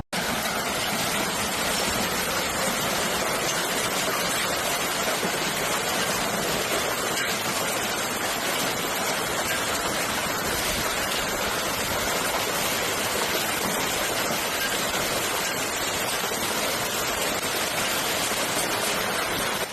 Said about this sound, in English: The noise of the hail was deafening.